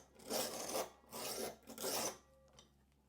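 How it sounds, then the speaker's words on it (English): Tweezers sharpened on a sharpening block: three rasping strokes, each about half a second long, near and clear, with brief pauses between them and a faint short scrape at the end. "It's going to catch the very edge of the sharpening block."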